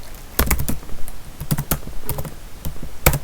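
Code is typed on a computer keyboard up close, in uneven bursts of crisp key clicks separated by short pauses, with no voices.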